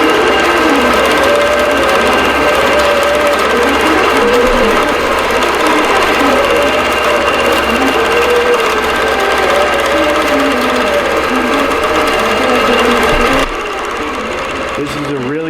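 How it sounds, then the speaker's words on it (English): A quilting sewing machine stitches a bordered diamond pattern in a continuous, loud, rapid mechanical chatter that runs steadily throughout, briefly dropping in level near the end. "I'm going to let it sew out for a little bit"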